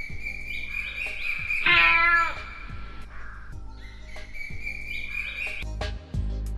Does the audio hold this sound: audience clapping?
no